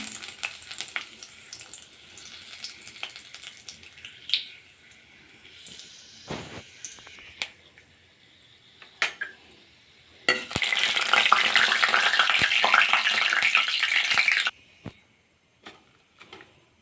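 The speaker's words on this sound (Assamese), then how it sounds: "এতিয়া মই পাঁচফোৰণকেইটা দি দিম আৰু তেজপাত দুখিলা।" Panch phoron seeds and bay leaves fry in mustard oil in a hot pan with a soft crackle, then a loud, dense sizzle flares up for several seconds before dying back to scattered pops and clinks.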